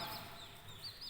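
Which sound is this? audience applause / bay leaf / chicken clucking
chicken clucking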